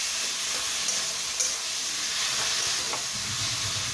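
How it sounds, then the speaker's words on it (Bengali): Taro leaves cooked with coconut sizzle and hiss in a pan as they are stirred, a steady close frying noise with faint scrapes and no talk. "ওটা দেওয়ার পর ভালো করে নেড়ে চেড়ে নিচ্ছি।"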